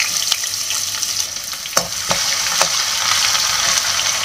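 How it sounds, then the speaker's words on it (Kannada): Onion dropped into hot oil for uppittu, a close, steady sizzle with occasional stirring clicks against the pan, continuous and without talking. "ಫಸ್ಟು ಈರುಳ್ಳಿ ಸೇರ್ಸೋಣ."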